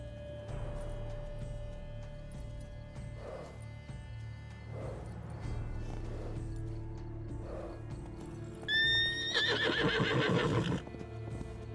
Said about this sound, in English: That's not a unicorn. That's a horse with a horn strapped to its head.